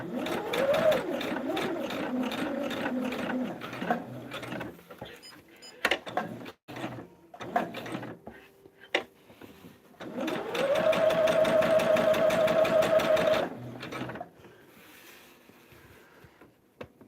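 Home sewing machine basting down a dahlia quilted table topper, running in two sustained stitching bursts with a steady mechanical hum and whir, separated by short clicks and handling noises, close and clear.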